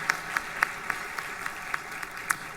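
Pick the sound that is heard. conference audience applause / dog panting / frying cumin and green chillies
conference audience applause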